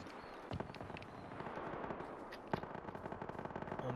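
Bizon submachine gun from PUBG firing in rapid bursts, a dense stream of sharp gunshots with louder cracks standing out, continuous and fairly close throughout.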